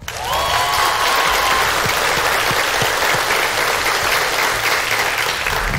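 Applause and cheering from a studio audience at a televised school quiz competition, a dense, loud burst of clapping that swells quickly and holds steady throughout.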